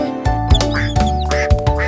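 A cartoon duck in a French children's song quacks about six times in quick succession over a steady musical backing.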